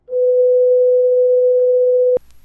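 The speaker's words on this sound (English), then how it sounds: "500 hertz sounds like this." A steady, pure 500 hertz test tone from a 1963 test LP played on a 2020 turntable holds loud and unbroken for about two seconds, then cuts off abruptly with a brief click.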